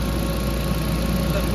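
An Audi TT MK1 with a 1.8T BAM engine ticking over at idle after coolant work, a steady close mechanical hum with even low pulsing and no talking.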